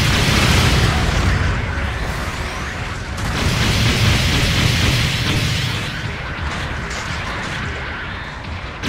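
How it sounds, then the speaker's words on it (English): Long-range supporting fire from a small cannon in a mobile suit battle game: sustained loud explosions and booming blasts that roll into one another, with a sharp burst partway through and mechanical clatter underneath. "Long-range supporting fire is a go."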